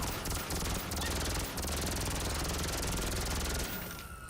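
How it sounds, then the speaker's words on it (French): A minigun in GTA Online fires a loud, rapid, continuous burst of rattling shots that lasts nearly the whole moment before tapering off at the end. "j'aimerais bien comparer avec le minigun, moi"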